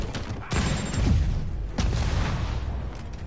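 Rocket launcher fire and blasts in a Spider-Man video game: repeated loud booming explosions at close range, with low rumbling impacts around the one-second mark and again near two seconds.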